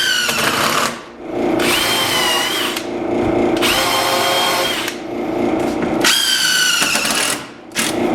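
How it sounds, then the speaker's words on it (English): A power drill pre-drills holes in wood for 2.5 inch deck screws on a trestle-style picnic table in a workshop. Three loud, close, whining bursts of several seconds each are separated by brief pauses, with no talking. "I'll go ahead and pre-drill once again so I don't end up with any cracks in the wood"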